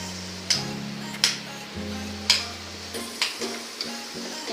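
Boiled potatoes, broken into pieces, frying with spices in a pan: a few spaced scrapes and clinks of a spatula over a faint, low sizzle and a steady background hum.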